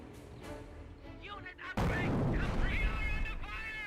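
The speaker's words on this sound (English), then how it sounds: "Incendiary mortar there, that was a direct hit that time, annihilates that squad" An incendiary mortar shell in the Company of Heroes game exploding with a sudden loud boom and rumble after lighter battle noise, while a voice talks over it.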